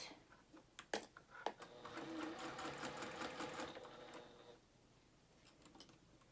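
A domestic sewing machine runs a continuous stretch of rapid stitching to gather ruffles in dress fabric, preceded by a few clicks and handling taps and fading into quiet clip removal afterward.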